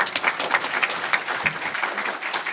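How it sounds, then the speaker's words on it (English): Audience applause fills a conference hall at a Nordic-Baltic energy event, a steady dense patter of many hands clapping at close range, sustained evenly throughout with no talk over it. "Last applause."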